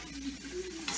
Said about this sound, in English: the pork steaks in there, and they're cooking very nicely. Mainly because they're in a cast iron skillet.